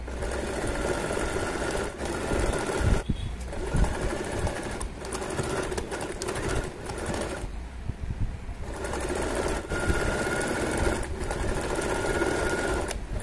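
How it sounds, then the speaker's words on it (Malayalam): Sewing machine stitching the seam of a jacket-style kurti from shoulder downward, a steady mechanical whir running continuously with brief pauses, close and fairly loud with no talking. "ഇനി നമുക്കിത് തയ്ച്ചെടുക്കാം."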